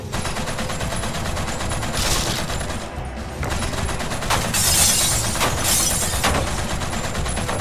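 Rapid, continuous gunfire in the video game Wet, loud and close, with bursts of shattering as targets break.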